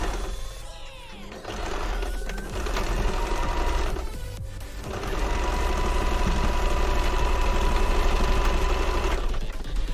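A sewing machine runs steadily at close range as it stitches faux fur for a fennec fox fursuit head, its motor whirring and humming with a short pause in the middle before the stitching resumes.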